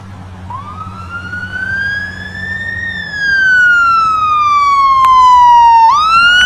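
An ambulance siren wails steadily along a road, its tone rising and falling in long sweeps as the vehicle passes close by and grows louder, with traffic rumbling underneath and no talk.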